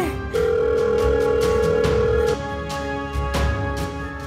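A telephone rings out in a tense household drama, a long steady electronic tone for about two seconds, set against sombre background music with soft plucked notes.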